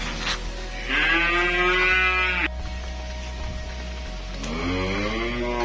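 Simmental cattle calves at a livestock trader's yard in Kediri, giving loud, drawn-out moos and bleating calls, two long calls with a quieter stretch of pen noise between them.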